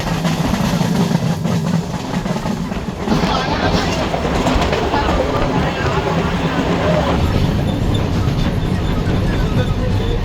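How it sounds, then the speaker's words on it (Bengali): A moving train rumbles and clatters steadily along the rails, loud and close, with voices faintly audible underneath. "ট্রেন একদম রাইট টাইমে ছেড়ে দিয়েছে"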